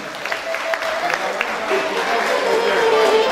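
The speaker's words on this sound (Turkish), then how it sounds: "Güzel alkış gelsin dedemize." Guests at a circumcision celebration in Cologne break into brief, lively applause, with crowd chatter and voices mixed in over the clapping.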